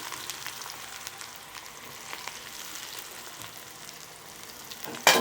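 Chopped onion frying in hot oil with mustard seeds and urad dal, a steady close crackling sizzle throughout that ends in a sudden loud clatter of stirring.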